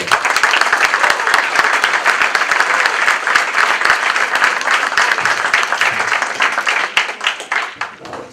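An audience breaks into loud, dense applause at a speech by a federal deputy at a Mexican institute, the clapping heard close and sustained for several seconds before it starts to thin out near the end.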